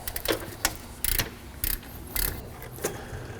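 Rapid ratcheting clicks from a 3/8-inch ratchet turning an alternator bolt on a Honda Element or CR-V, in short bursts of repeated clicking with pauses between strokes, close and clear.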